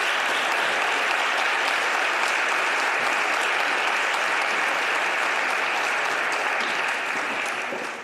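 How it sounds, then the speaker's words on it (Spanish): Sustained applause from an audience at an International Day of the Girl event in the Spanish Congress of Deputies, a full, steady roar of many hands that fades slightly near the end. "Quiero, por favor, que le deis un aplauso."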